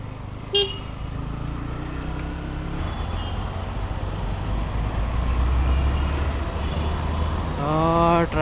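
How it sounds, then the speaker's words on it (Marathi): Road traffic heard while riding a Pulsar NS160 motorcycle toward the highway in Kandivali, with a steady engine and road rumble throughout, a short car horn toot near the start and a louder horn blast at the end. "ट्रॅफिक या साईडला भाई बेकार ट्रॅफिक असतं आमच्या इथे कांदिवलीला हायवेला जायला."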